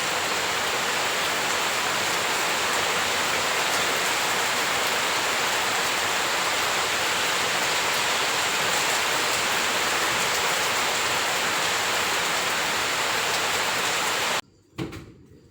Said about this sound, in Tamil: அடுத்த 10 நிமிஷத்தில் ஜோருன்னு மழை பெய்யுது.